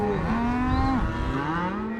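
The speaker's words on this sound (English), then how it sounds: "Driving cattle at Dryhead Ranch in south central Montana." Cattle on a drive at Dryhead Ranch in south central Montana let out a close, drawn-out moo lasting about two seconds.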